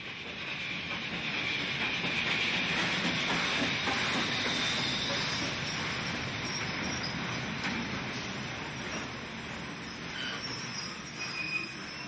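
Steam locomotive AB663 stands at Palmerston North railway station, releasing a steady, soft hiss of steam that continues for the whole stretch, with faint ambient noise and no talk.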